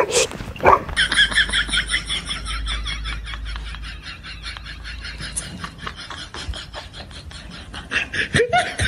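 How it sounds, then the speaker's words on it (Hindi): Fake dog barks from a prank sound repeatedly in quick bursts amid a noisy, rasping background, with louder yelps at the start and end. "ओए कुत्ता कुत्ता ओए भाग कुत्ता"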